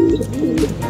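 Racing pigeons coo in soft, low murmuring calls that run through the whole second, close and steady with no talk over them.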